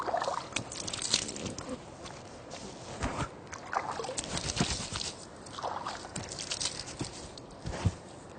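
Water splashes and sloshes in irregular bursts as a man washes his face with his hands during ritual ablution, close and moderately loud, with no talk over it.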